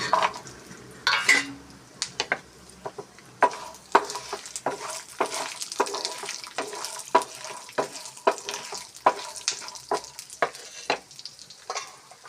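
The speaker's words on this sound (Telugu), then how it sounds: "ఇవి బ్రౌన్ కలర్ వచ్చే వరకు ఫ్రై చేసుకోవాలి." Unpeeled garlic cloves and other ingredients frying in a pan until brown, a steady close sizzle broken by frequent sharp scraping and clinking of a spatula stirring against the pan, with no voices.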